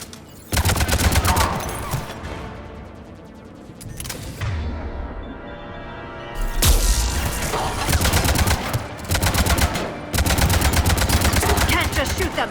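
Sustained automatic gunfire from Mass Effect 3 combat, dense rapid bursts with short pauses and a reverberant lull in the middle, loud and continuous.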